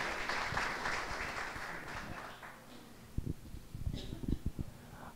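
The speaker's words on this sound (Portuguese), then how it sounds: "E peço a todos vocês uma salva de palmas para esses jovens guerreiros." Applause from an audience at a municipal guard and traffic agents graduation ceremony, a fairly faint scattered clapping that fades and then picks up again in brief bursts.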